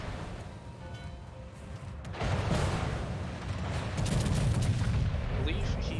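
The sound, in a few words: battleship shells firing in World of Warships video game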